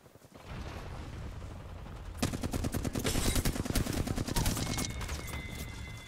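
Rapid automatic gunfire from the video game Apex Legends during a competitive match, dense bursts of many shots overlapping with continuous background game noise, loud and sustained after a quieter opening.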